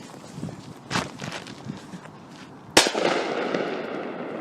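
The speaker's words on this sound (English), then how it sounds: "Now, this is the Crazy King firecracker." A Crazy King firecracker goes off with one sharp, loud bang near the end, followed by a lingering crackling rumble. Before it come quieter rustling sounds and a few soft thumps that could be footsteps.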